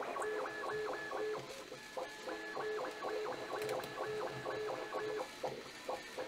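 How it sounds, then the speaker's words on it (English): A Bambu A1 3D printer runs fast, its stepper motors whining in quick repeated pitched bursts with short pauses, fairly close and steady against a faint room hum. "But this is really fast for a Bambu A1 printer."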